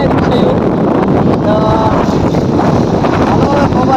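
Strong wind buffets and roars steadily throughout near a bridge outside Wankaner, loud and close, with faint voices underneath.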